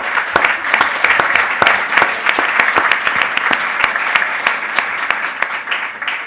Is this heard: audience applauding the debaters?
yes